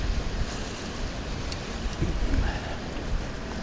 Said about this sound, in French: qu'il n'y a pas trop de vent, parce que ça souffle